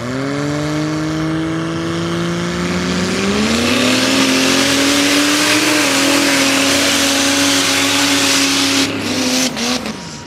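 A little Suzuki mud drag racer launches hard down the inside lane, its engine revving loud and close with a steady rising pitch that climbs through a shift and holds to the end before cutting off.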